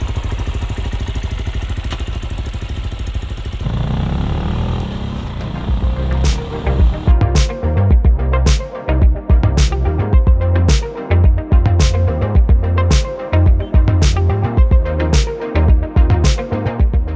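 Royal Enfield Classic 350 and Benelli Imperiale 400 motorcycles: steady engine drone, then a rhythmic repeating beat over a low engine rumble, close and loud.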